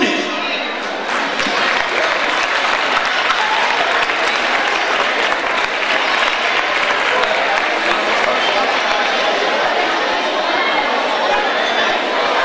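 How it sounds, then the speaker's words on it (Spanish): Sustained audience applause at an evening tribute for a doctor at an oncology association's silver oak award ceremony, dense and steady for the whole stretch with crowd murmur and voices mixed in. "vamos a dar un aplauso a nuestro colaborador, el doctor Andrés Antúnez"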